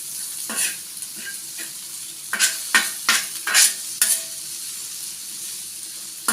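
Okra frying dry in oil for bhindi sukha fry hisses steadily in a pan, close up, while a spatula stirs it in a series of short scraping strokes through the middle, then the sizzle settles on its own.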